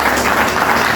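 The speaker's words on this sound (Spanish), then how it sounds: "un aplauso para Dios" Brief burst of church congregation applause during a sermon, a dense, loud wash of clapping that fills the whole moment.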